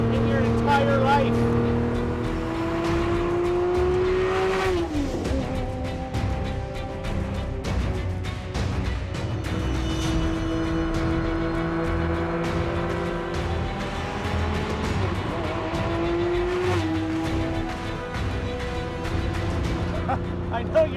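Ferrari F50 V12 engine revving and driving, rising and falling in pitch with gear changes, loud and close throughout with a sustained rich drone.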